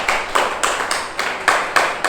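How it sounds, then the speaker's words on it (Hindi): Audience members clap for themselves at an exam preparation talk, in a rhythmic, evenly paced group clapping of about eight beats, moderately loud and with no voices over it. "अब तालियां बजाएंगे आप अपने लिए और खुशी का इजहार करेंगे"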